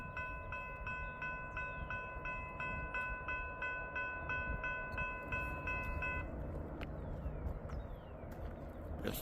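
Norfolk Southern 1070, a Wabash heritage locomotive, passes a crossing at Poorman Road with a steady rumble of rolling wagons while a crossing bell rings in a fast regular rhythm that stops partway through.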